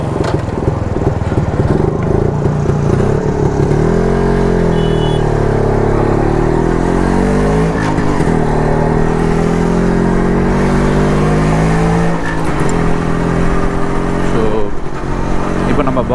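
A vintage Jawa motorcycle being ridden, its engine revving up and down with shifting tone under steady road and wind noise, while someone talks over it.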